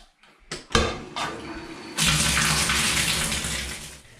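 A Grohe Grohtherm SmartControl thermostatic shower valve is tested: a few clicks and brief spurts, then the shower bursts on into a loud, steady rush of falling water.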